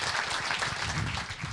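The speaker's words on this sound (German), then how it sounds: "Und ich möchte Sie bitten, diese beiden Referenten mit einem großen Applaus ganz herzlich willkommen zu heißen." Audience applause greeting two speakers at a public talk on protection from cyber surveillance, a dense steady patter of many hands filling the room without a break, with no talk over it.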